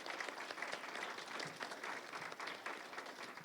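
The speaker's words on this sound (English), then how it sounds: "I think we need to give a big round of applause to our candidates for answering." An audience at a council by-election candidates' event applauds in a steady, dense burst of clapping. The applause is heard from a distance and stays fairly faint and even for a few seconds.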